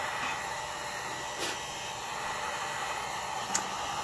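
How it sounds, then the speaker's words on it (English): Steady air blowing across a small alcohol ink painting on Yupo paper, a continuous close hiss like a small blower or hair dryer that runs throughout, with no talking. "I'm going to blow off some of this extra ink"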